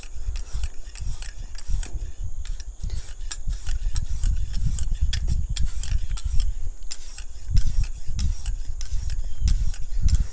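A hunting knife is drawn along a sharpening stone at a 25-degree angle in a holder, making a steady, close, gritty scraping that repeats with the strokes for about ten seconds, with no talking.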